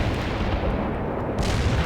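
Artillery fire in the war video game World in Conflict, a dense, steady barrage of low rumbling booms that rolls on without pause, loud and close, with no talking.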